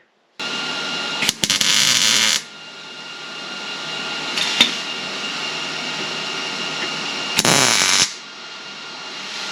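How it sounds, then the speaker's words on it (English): An electric welder tacks a bracket in place during battery installation on a 1940 Mercury, with three separate loud crackling bursts of a second or two each over a steady background hum, and no talk. "we'll tack it with the welder"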